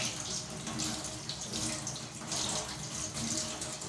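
Tap water runs steadily into a sink while wheat is washed under it, a continuous close splashing hiss with slight shifts as the grain is stirred.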